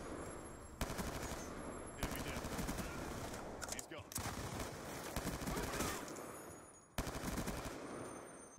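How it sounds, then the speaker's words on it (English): An M4 carbine assault rifle fires in Call of Duty: Black Ops 2 as long, loud automatic bursts of rapid shots, broken by short pauses between strings. "this is the M4 carbine of Black Ops 2"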